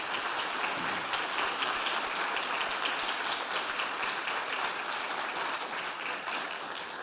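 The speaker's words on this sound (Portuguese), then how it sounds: "pode aplaudir" A church congregation at a celebration service claps in dense, continuous applause, loud and even throughout, easing slightly toward the end, with no speech on top.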